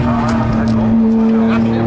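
Vintage 1990s LMP2 race cars at a classic Le Mans paddock give off a loud, steady engine drone with a strong sustained tone, while a voice talks over it throughout.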